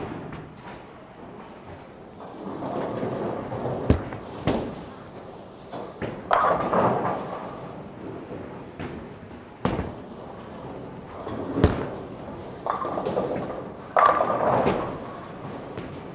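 A Roto Grip Hustle Camo bowling ball rolls down the lane and strikes pins, a rumbling roll broken by several sharp thuds and clatters at irregular intervals in an echoing alley.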